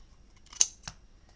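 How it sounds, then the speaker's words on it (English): Two quick, crisp snips of scissors cutting thread ends close by, a sharp cut followed by a softer one in an otherwise quiet room. "We'll just snip them off."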